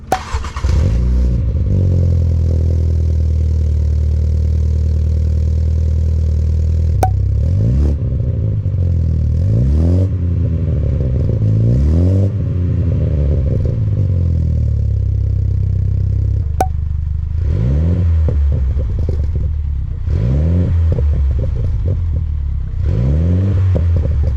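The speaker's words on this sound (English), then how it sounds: "Let's go ahead and let you hear the exhaust and hear what it sounds like." A Mini Cooper F56 fitted with a Scorpion Challenge performance exhaust idles loudly nearby, then revs repeatedly in rising and falling sweeps, with a few sharp pops between blips.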